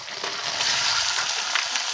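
Chopped bottle gourd tipped into a pan of cooking sardines sizzles and hisses loudly and steadily, with faint stirring scrapes, close up and without speech.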